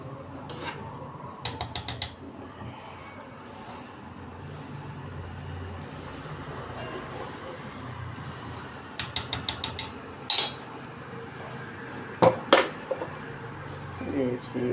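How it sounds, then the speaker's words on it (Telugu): Fenugreek leaves, tomato and sesame being ground into chutney in a stone mortar give a soft continuous scraping and rubbing, broken by bursts of sharp rapid clicking and knocking of stone on stone. "మిక్సీలో కంట ఇలాంటి రోట్లో వేసి చేసుకుంటే పచ్చడి చాలా బాగుంటుంది"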